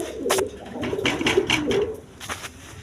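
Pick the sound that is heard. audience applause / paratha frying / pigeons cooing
pigeons cooing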